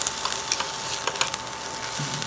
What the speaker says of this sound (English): Let's check on our zucchini. So ready for a little flip, starting to sear up a little bit.